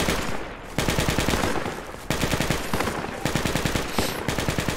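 Rapid machine-gun bursts in the Project Reality military shooter, close and loud, firing in several long rattling strings separated by brief pauses.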